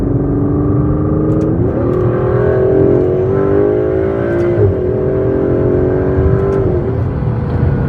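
A 2017 Aston Martin DB11 Launch Edition with a 600-horsepower V12 accelerates hard from inside the cabin, a loud, smooth engine note climbing in pitch through several gears with brief dips at each shift.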